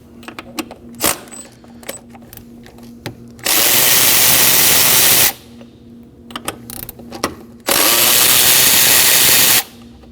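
Two bursts of a power tool removing 10mm throttle body bolts on a Kia Optima, each whirring loudly for about two seconds, separated by quieter clinks and handling noises.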